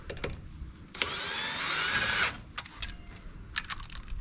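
A 1/2 inch impact wrench tightening lug nuts with deep reach sockets gives one loud buzzing burst of a little over a second, with faint clinks and taps before and after.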